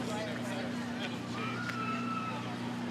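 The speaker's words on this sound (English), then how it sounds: "we are happy to report the sirens work." A police car siren wails with a rising and falling tone over steady low engine hum and background noise at a Memorial Day parade, fairly distant.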